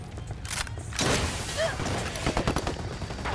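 Gunfire in Ghost Recon Wildlands, bursts of automatic shots overlapping into a fusillade, loud and close, with voices talking in between.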